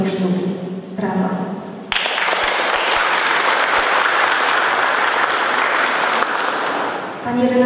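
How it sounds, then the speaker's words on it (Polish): Applause from an audience at an art exhibition of works by an artistic group, breaking out suddenly after a speaking voice and holding as a loud, dense wash of clapping before fading out. "Brawa."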